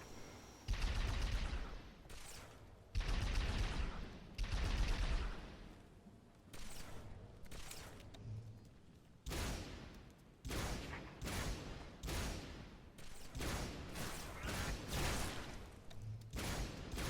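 Enemy gunfire in a Halo game: repeated loud bursts of shots in clusters, some heavy booming blasts early on, then sharper rapid volleys spaced across the stretch, with no voices.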